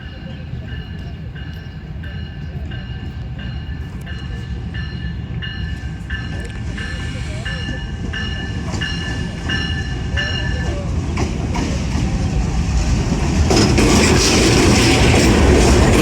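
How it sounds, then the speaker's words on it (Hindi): Railcar running on the 102 Down Raftar service between Rawalpindi and Lahore, heard from on board, with a steady rumbling roll and rhythmic wheel clatter that grows louder toward the end, a voice talking over it. "बोर्ड हो गया हूँ जी मैं 102 डाउन सुबह रफ्तार रेल कार पे।"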